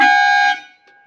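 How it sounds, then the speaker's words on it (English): A single loud, blaring truck air horn blast held for about half a second, then cut off with a faint tail. "It's got a electric horn, and we got air horn."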